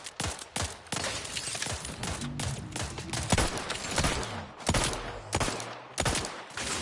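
Rapid gunfire from The Outer Worlds 2, dense bursts of shots and automatic fire packed close together, loud and near with overlapping reports and no talk.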